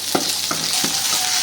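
Curry leaves and green chilies frying in oil in a pan, a steady close hiss with a few sharp spoon scrapes against the pan, no voices.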